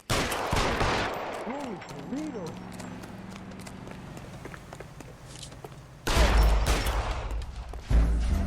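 Gunshots ring out in an L.A. Noire shootout, several sharp bursts at the start and two louder blasts later, mixed with hoofbeat-like clatter, music and a voice speaking.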